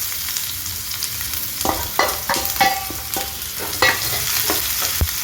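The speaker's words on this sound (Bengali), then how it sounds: "কড়ায় তেল গরম করে জিরে ফোড়ন দিলাম। এবার দিয়ে দেবো কিছুটা কুচনো পেঁয়াজ।" Chopped onions sizzle and fry in hot oil with cumin in a kadai, a steady close hiss with scattered stirring scrapes and pops throughout, no voices.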